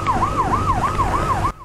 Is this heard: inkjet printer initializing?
no